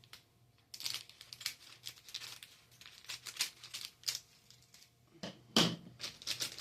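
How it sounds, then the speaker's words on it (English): Scissors snipping through the ends of a Popin Cooking Japanese treat kit packet, a run of crisp close cuts and plastic crinkles in irregular bursts, with a louder crackle near the end. "take your scissors and cut"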